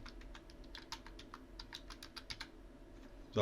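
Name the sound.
typing on a computer keyboard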